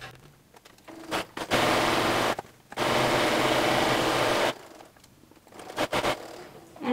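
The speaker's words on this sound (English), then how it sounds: "over to the machine with a 3/8 inch seam" A sewing machine runs a 3/8 inch seam on a pillowcase in two bursts of fast, even whirring, with a short pause between them and quiet handling noises before and after.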